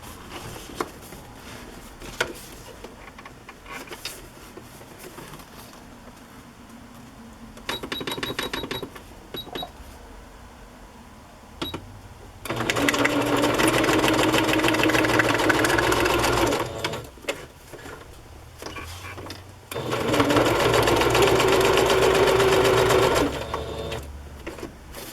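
A sewing machine stitches a pocket onto a handmade journal with two long, steady whirring runs of needle chatter, separated by brief pauses and softer handling sounds, loud and close.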